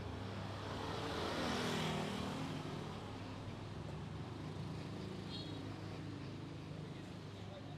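Cars pass along a busy main street in Seminyak, Bali, heard from the pavement as a steady traffic rumble that swells as one vehicle goes by, with faint voices around.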